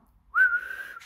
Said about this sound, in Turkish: Nasıl ıslık çalıyorum ama?